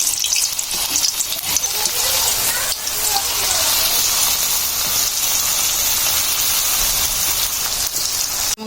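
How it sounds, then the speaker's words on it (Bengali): Taro laddus deep-frying in oil give off a dense, steady sizzle and crackle that fills the whole stretch, close and loud, with no pauses or talk. "বাদ বাকি যা আছে সবগুলো এভাবে ভেজে নিব।"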